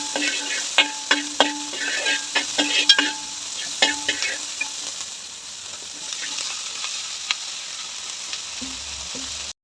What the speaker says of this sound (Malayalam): ഞാൻ മുഴുവനെയുള്ള ഒരു സവാളയും പിന്നെ ഒരെണ്ണത്തിൻ്റെ പകുതിയും ആ സവാളയും കൂടെ ഇട്ടതൊന്ന് വാട്ടിയെടുക്കാമേ